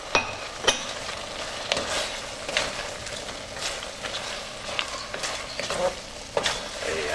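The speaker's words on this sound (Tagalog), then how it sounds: "So ilalagay na natin dito yung hipon. At haluin lang natin kagad." Shrimp is stirred into a spicy coconut milk sauce, ginataang hipon, in a pan, with repeated scraping spoon strokes and clinks over a bubbling sizzle.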